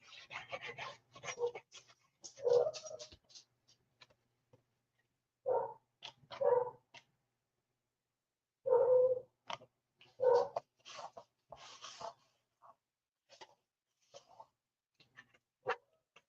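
Beagles bark and bay in loud, separate bursts indoors during a crafting class, with several short outbursts and quiet gaps between them.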